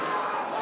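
Crowd noise fills an indoor pool at a women's water polo match between Hungary and Colombia in Budapest, a brief, dense roar of cheering and applause heard from a distance.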